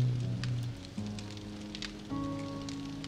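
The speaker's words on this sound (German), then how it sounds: "Wir haben Gewitter. Gewitter!" Rain patters steadily in the survival video game 7 Days to Die, with quiet droplet ticks over low sustained game tones and no distinct thunder clap.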